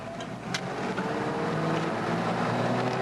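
Methanol-fuelled car floored at full throttle, heard from inside as a steady, rising engine roar with wind rush, fairly loud and continuous with no talking.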